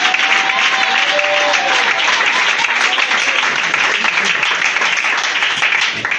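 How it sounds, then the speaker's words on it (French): A church congregation applauds and cheers, a dense, steady wash of clapping hands that stays loud and close throughout, with scattered voices mixed into the crowd. "On acclame le Seigneur pour l'encourager."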